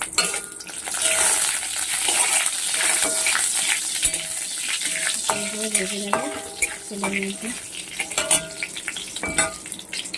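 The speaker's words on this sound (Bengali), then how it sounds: "গরম হয়ে গেছে এবার আমি কালো জিরে ফোড়ন দিয়ে দিচ্ছি আর শুকনো লঙ্কা দিয়ে দিলাম আমরা" Nigella seeds and dried red chillies crackle and sizzle in hot mustard oil in a pan, a steady frying hiss broken by metallic clinks and scraping stirs throughout, with no talk.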